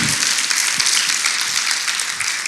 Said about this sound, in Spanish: Alábale, sí, le vas a aplaudir.